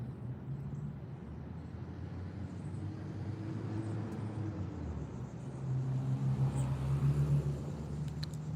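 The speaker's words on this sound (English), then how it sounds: "So you hear the cars dropping by." Cars passing on a nearby road, a low continuous rumble of traffic that swells and fades, with a steady engine drone growing louder toward the end.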